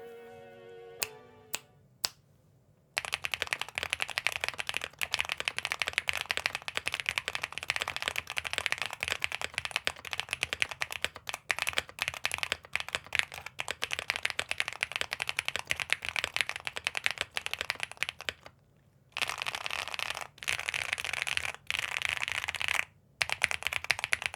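Steady typing on a Velocifire Choice 65 keyboard fitted with Hanami Dango linear switches in nylon housings, GMK Posh keycaps and TX stabilizers: dense, continuous clacking keystrokes, close and clear, with brief pauses and no talking.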